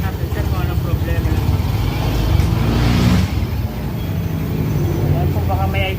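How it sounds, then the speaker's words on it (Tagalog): A Yamaha Mio i 125 scooter with a hard-starting fault is started and runs with a loud, steady engine drone that swells briefly in the middle before settling back to an even idle. "Sir, start po. Rinig po ba yung makina?"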